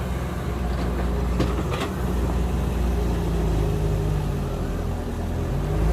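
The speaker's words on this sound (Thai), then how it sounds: "พามา ฟังเสียงเครื่องยนต์เสียงปั๊ม เสียงกุกกี้นะครับ" A steady, loud mechanical engine drone with a low rumbling hum from a Komatsu PC100-2 excavator's engine and hydraulic pump, continuous throughout, with a few brief clanks and knocks near the start.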